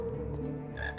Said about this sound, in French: il y a une grenouille là-haut.